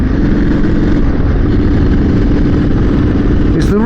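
Euro 4 compliant motorcycle engine running at a steady idle, a loud low throb that is continuous and close, with a brief higher sweep near the end and possible talk over it.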